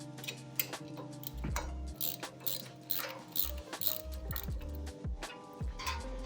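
A socket wrench ratchets in quick, close clicking runs while a bolt is removed from the upper cable bracket of a lat row power stack, with soft metallic handling sounds between strokes.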